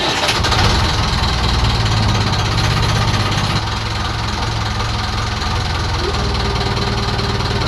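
Inboard engine of a restored wooden boat at the dock runs loud and close with a rough, knocking idle, its pitch dropping slightly partway through as the throttle settles.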